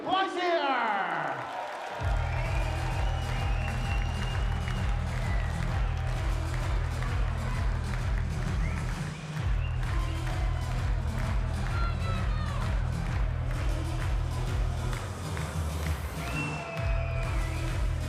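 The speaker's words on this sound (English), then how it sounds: "A massive round of applause for Wesley Pleisier!" A large crowd claps and cheers at the Dutch Open darts final, a steady mass of applause under a loud pulsing music beat, with a few whistles rising over the noise and no talk.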